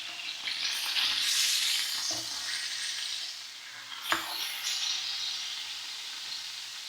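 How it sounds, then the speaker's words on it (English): Welsh lamb searing in a hot pan gives a loud, steady sizzle and hiss, close by, with a few brief clinks and stirring bumps partway through. "the benefit of searing the meat in this way is to keep all those lovely juices in"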